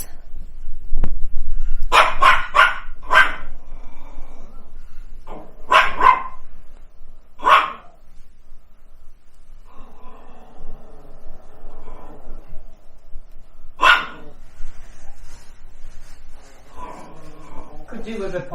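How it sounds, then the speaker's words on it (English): Several dogs indoors bark in short loud bursts and clusters, with quieter gaps between them, while people talk nearby during a household cleaning session. "What you barking at, boys?"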